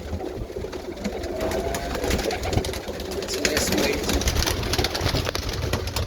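Birmingham Roller pigeons of the George Mason line, including red grizzle nest mates, coo and shuffle steadily in a loft while someone talks over them nearby.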